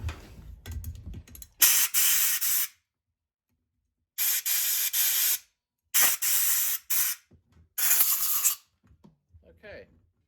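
Compressed air blasts through a part of a new Empi 34 PICT-3 carburetor for an air-cooled 1600cc VW Super Beetle, in four loud hissing bursts of a second or so each, separated by silence, with brief handling noises between.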